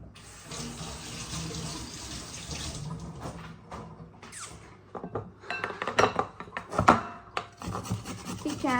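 Carrots are washed under a running kitchen tap. A steady gush of water lasts about three seconds, then gives way to close, uneven rubbing and scraping with sharper knocks.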